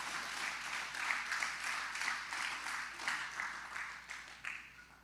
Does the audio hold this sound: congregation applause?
yes